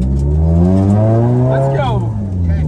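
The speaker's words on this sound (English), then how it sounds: "It's tire testing time with Suenaga" Drift car testing new Kenda tires: a loud, close engine holds a steady high drone with harmonics that rise and then bend around as the car slides. Voices can be heard under the engine.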